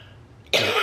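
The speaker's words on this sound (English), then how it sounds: "Not editing that out. We all cough" A single sharp, close cough bursts out abruptly after a short quiet moment.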